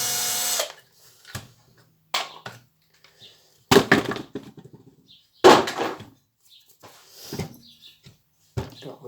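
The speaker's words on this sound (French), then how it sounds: "Ça va plus vite avec une visseuse." A cordless screwdriver takes apart a Stihl FS90 4-Mix trimmer, whirring in short bursts between quiet gaps, with clicks and clatter of parts and tools handled nearby.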